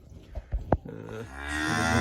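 Dairy cows being let out onto ryegrass pasture give a single drawn-out low moo, preceded by a few short thuds and shuffles close by.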